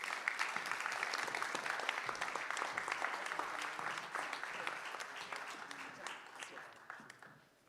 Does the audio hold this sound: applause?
yes